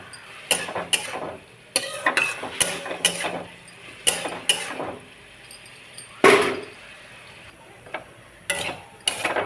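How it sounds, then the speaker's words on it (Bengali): Dheki shak (fiddlehead fern greens) being stirred in a pan: close, irregular bursts of scraping and clattering from a utensil against the pan, with short pauses between strokes. "এখন শাকটা নাড়াচাড়া করে, এখন জল ছাড়ছে এখনো।"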